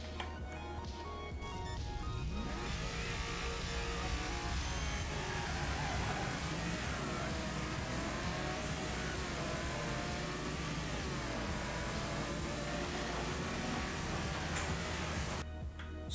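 Several race cars in the video game Wreckfest roar together at the start of a race, engines revving and droning steadily and loudly for the whole stretch, a dense blended growl with no talking.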